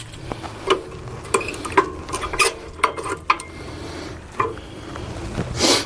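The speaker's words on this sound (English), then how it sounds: "Here are your old brake pads. Go in here, grab them, just work them out." Old rear brake pads on a Toyota are pried and worked out of the caliper, giving irregular metallic clicks, scrapes and knocks close up, with a rattling rub near the end.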